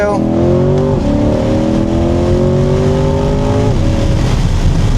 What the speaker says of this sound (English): Crazy how fast this car picks up.